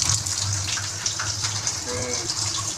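Water gushes steadily into a cooking pot for semia in a home kitchen, a continuous close pour with no clear words over it.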